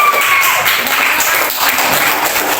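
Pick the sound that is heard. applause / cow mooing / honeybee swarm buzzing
applause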